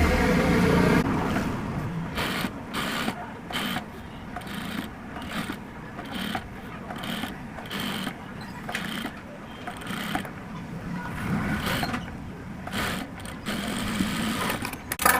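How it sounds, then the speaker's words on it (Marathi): Sewing machine running topstitching on a transparent blouse fabric while attaching bra cups, bursts of rapid close mechanical stitching broken by short pauses, no voice over it. "आता आपण दाब शिलाई मारून घेऊया."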